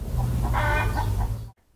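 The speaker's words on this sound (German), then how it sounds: "Hört man Gluckere Gloria gackern" A hen clucks loudly and close by in a continuous run of throaty calls, alone, cutting off abruptly after about a second and a half.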